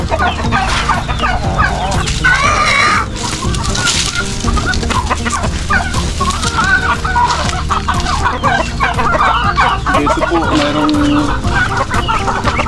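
Chickens and turkeys cluck and squawk busily up close, with a rooster crowing in the mix and a constant din of poultry throughout.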